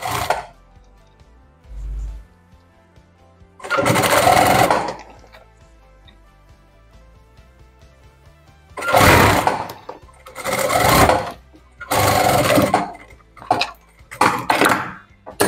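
Sewing machine stitching the hem of denim jeans, loud close whirring runs in several bursts of one to two seconds separated by quiet pauses, with no talk.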